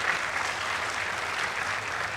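An audience at a Future Fest 2024 session applauds, steady continuous clapping heard at a moderate distance throughout.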